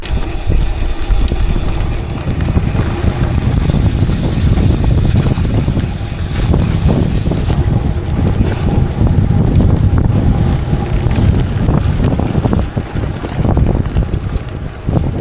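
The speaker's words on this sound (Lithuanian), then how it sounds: "Kitas vėjas daužo, nes vėjas toks arktinis" A strong, cold Arctic wind roars and rumbles close to the microphone for the whole stretch, loud and unbroken, with no voices.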